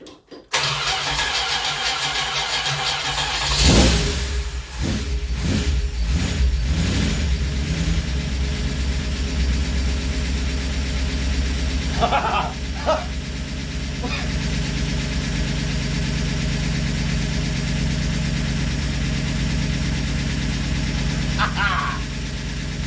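A 318 engine cranks and catches, then settles into a steady, loud idle running very rich at about 1200 RPM, with a couple of brief sharper noises later over the constant rumble.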